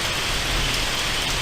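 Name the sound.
rain falling during a thunderstorm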